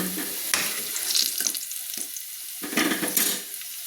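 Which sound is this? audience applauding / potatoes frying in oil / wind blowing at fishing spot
potatoes frying in oil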